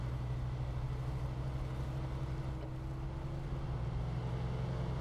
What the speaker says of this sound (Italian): Facciamo un po' di fatica in salita. Ci vorrebbe un nuovo motore per questa macchina.